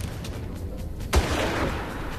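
A single sharp gunshot from the first Far Cry video game cracks out once near the middle, loud and close, trailing into a short echoing tail over a steady background of game ambience.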